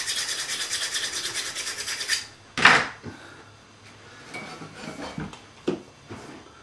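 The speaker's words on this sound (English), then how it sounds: "you may want to scratch it up a little bit with some sandpaper because of the oil" Sandpaper scratching a metal part on a pocket knife build, a steady rhythmic rasp of rapid back-and-forth strokes for about two seconds, then a brief louder scrape and a few faint rubbing touches.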